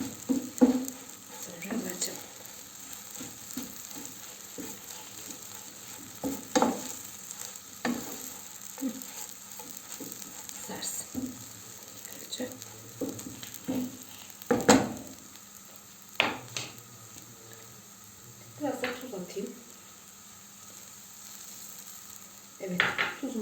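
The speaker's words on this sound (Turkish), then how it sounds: "Kızartmaya devam edelim" Steady sizzling of meat frying in butter in a pan for homemade İskender, with occasional scrapes and clinks of stirring, continuous and close.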